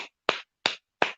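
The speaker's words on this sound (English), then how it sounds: "I'm gonna clap out loud" Three sharp, separate hand claps from a woman at close range, evenly spaced and ringing briefly in a quiet room.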